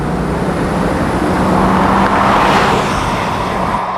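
A 1996 Chevrolet Corvette with a V8 engine accelerating, a steady, fairly loud engine and road roar that swells slightly midway, with no talking.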